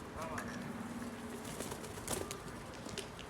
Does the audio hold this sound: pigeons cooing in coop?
yes